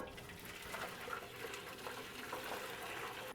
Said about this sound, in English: I'm going to very carefully pour it in.